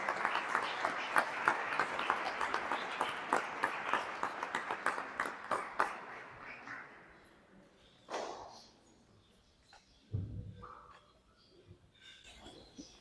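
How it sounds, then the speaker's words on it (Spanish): An audience at a book presentation gives a round of applause. Scattered, crisp claps come fast at first, then thin out and fade after several seconds, followed by a few isolated bumps and shuffling sounds in a quieter room. "Los invito a que le den un fuerte aplauso"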